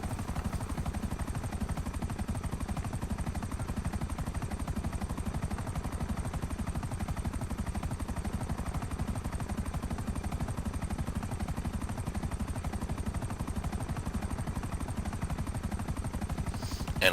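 A big, heavy video-game helicopter accelerates and climbs, its steady rotor chop and engine drone loud and continuous throughout with no talk over it.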